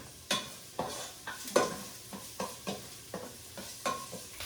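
Garlic and onion sautéing together in a pan for pansit bihon, with a steady sizzle broken by regular spatula scrapes and stirring clinks about every half second, close and clear with no voices.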